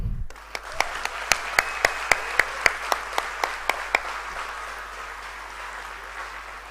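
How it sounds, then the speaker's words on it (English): Applause at a school graduation ceremony for the class of 2022: sharp, evenly spaced claps ring out about fifteen times in a reverberant hall, then stop and leave a fading room echo. "Ladies and gentlemen, can we please have a huge round of applause"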